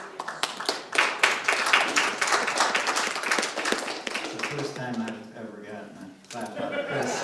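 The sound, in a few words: audience clapping at a ward meeting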